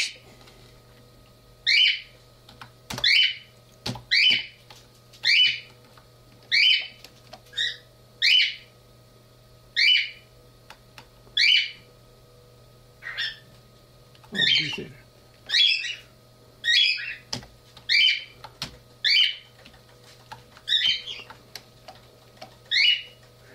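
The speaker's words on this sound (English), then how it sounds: "Shut up, birds." Birds chirp outdoors in short, evenly spaced bursts roughly once a second, clear and fairly close over a steady low hum, with no voices.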